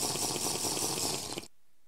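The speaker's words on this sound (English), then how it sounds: "Have a nice drink of water." A gulping, watery drinking sound in the modded Minecraft game Squatchcraft TFC 2 plays loud and alone for about a second and a half, then cuts to silence.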